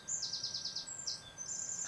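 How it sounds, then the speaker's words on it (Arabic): Small birds chirp and tweet at the Duwan Shay waterfalls in the Sakarya region, a quick run of high repeated notes followed by a few scattered calls, clear over a steady outdoor hiss. "صوت العصافير ما شاء الله، ما أحلى صوت العصفور"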